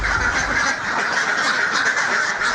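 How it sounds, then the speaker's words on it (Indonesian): Hundreds of laying ducks quack together in a dense, continuous chorus, loud and close, with no talking. "Ratusan bebek petelur ini seolah tahu Mas Hur datang"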